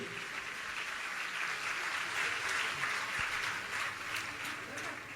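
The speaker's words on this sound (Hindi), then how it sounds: "दोनों हाथ उठा के ऊपर से उठाइए, ताली बजा के सम्मान करें" Audience applause at a gathering honouring a man devoted to cow protection, a broad steady wash of clapping from a crowd that holds evenly for about five seconds at moderate level, with no one speaking over it.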